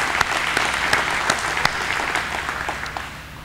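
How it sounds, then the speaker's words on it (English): Applause from a modest luncheon crowd in Nicholasville, Kentucky, the individual claps distinct and fairly close, tapering off toward the end. "Let's give them a round of applause."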